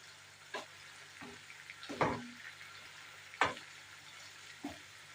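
Albanian-style liver fries in a pan, giving a soft steady sizzle. A spoon stirs it in several separate scrapes and clacks, spaced a second or so apart.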